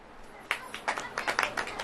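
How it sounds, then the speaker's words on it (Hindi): Scattered audience clapping at a church service, several sharp claps at uneven intervals starting after a short pause, fairly close, with a voice speaking faintly underneath. "ताली बजाएं।"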